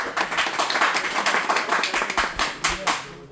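At a certificate distribution ceremony in Oman, an audience claps in a quick, uneven burst of overlapping hand claps, moderately loud and close, with some voices mixed underneath.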